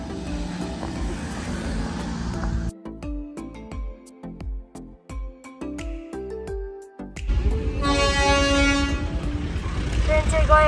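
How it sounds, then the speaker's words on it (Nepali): A train near Darjeeling passes with a series of sharp, repeated toots, then heavy rumbling and clatter as it goes by, and voices talk over parts of it. "ट्रेन चाहिँ गयो भर्खर"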